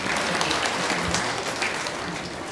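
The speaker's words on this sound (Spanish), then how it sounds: "demos los aplausos entonces, que venga ese aplauso fuerte usted" A crowd at a village community gathering claps for the municipal mayor steadily and fairly loudly, a dense continuous patter of applause with no pauses.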